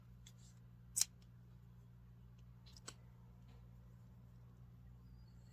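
Scissors cut crochet yarn in one sharp, close snip, followed by a fainter click, against a quiet low hum.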